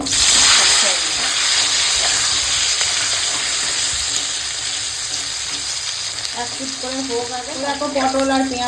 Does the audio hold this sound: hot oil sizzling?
yes